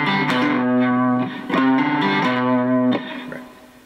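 A short riff on a three-string cigar box guitar through distortion, the note pushed slightly ahead of the beat, several choppy chord hits before a decaying final ring, close with no voice.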